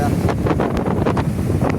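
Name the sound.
sea waves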